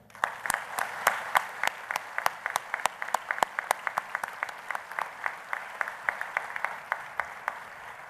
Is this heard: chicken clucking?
no